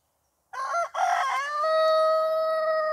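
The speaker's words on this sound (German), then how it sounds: "Der dänische Hahn hat dich nicht verstanden und der holländische versteht dich schon." A rooster near a lakeside campsite by Overloon crows once loudly and close, a rising strained cry that settles into a long sustained held note, alone with no talk.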